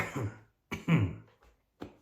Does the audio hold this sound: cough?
yes